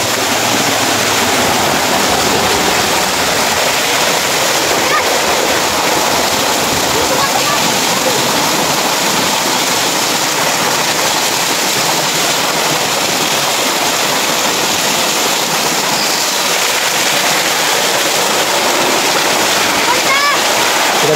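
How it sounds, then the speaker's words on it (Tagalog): A steady, loud roar of water pours over Kawa Kawa Falls, heavy and constant throughout, with a few voices talking faintly beneath the rush. "Malakas naman ng tubig."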